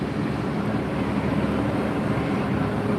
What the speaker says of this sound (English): Next arrival is going to be JetBlue A320-200 coming in from Boston